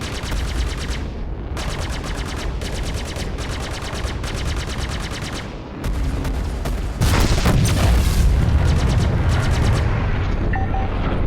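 Space combat in Star Citizen, with loud continuous rapid-fire weapon bursts and heavy booming blasts layered densely throughout, the intensity stepping up partway through, with no talking.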